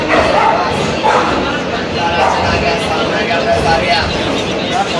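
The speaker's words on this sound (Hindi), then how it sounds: "इंजन पे भौंक रहे थे कुत्ते" Several dogs bark at a train engine on a railway station platform, their sharp, loud yips and barks repeating over busy crowd noise.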